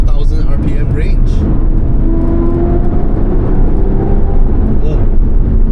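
Aston Martin engine pulling steadily through the 2000 to 4000 RPM range, a loud, close, continuous deep drone with rising tone while driving.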